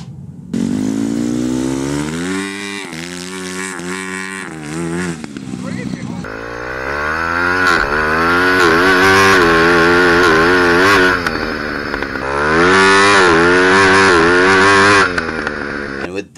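A grass kart's small engine screams at full throttle through successive gear shifts, its loud revving pitch climbing, dipping and climbing again for over fifteen seconds, with a voice talking over it.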